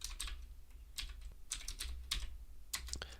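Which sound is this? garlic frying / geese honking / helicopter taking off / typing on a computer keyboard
typing on a computer keyboard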